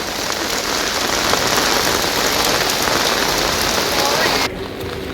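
Rain falls steadily and close by during preparations for a wedding, a loud, dense hiss of drops on surfaces that continues evenly and drops somewhat in level near the end.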